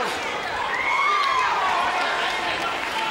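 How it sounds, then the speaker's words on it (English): A boxing arena crowd roars and cheers for Floyd Mayweather during his title bout against Genaro Hernandez, a steady, dense wall of noise running beneath a commentator's voice. "The crowd and everybody cheering Floyd on here"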